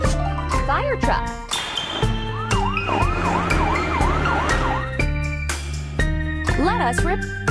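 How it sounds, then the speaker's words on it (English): A toy fire truck's siren cycles in a repeated swooping wail for about two seconds, set against busy upbeat music with playful effects before and after, loud and near. "fire truck,"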